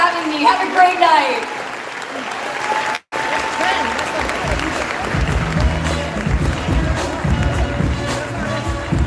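Audience applause at an annual gala celebrating the Year of the Dragon, a dense wash of clapping with some cheering that runs steadily across the clip, briefly cut by a short gap, with voices mixed in.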